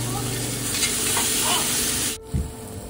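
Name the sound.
tomato and spices frying while stirred in pan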